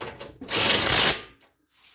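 A bolt is tightened on a Craftsman GT riding lawn mower during a steering wheel bushing swap, giving one short burst of close ratcheting, about a second long, followed by quiet.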